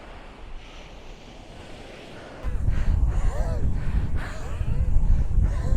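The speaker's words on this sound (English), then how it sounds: "Very windy." Strong desert wind buffets the microphone in extreme heat, a soft hiss at first that turns into heavy, gusting low rumbles halfway through.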